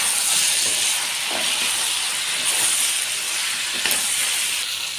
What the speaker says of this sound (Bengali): হলুদ গুঁড়ো লঙ্কা গুঁড়ো দিয়ে একটু কষিয়ে নেব